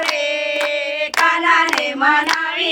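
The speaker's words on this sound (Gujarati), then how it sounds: "બે હાથે તાળી પાડો રે કાના" Devotees clap with both hands in steady rhythm during a Gujarati bhajan at a Radha Krishna temple, sharp claps landing over sustained harmonic singing voices close by.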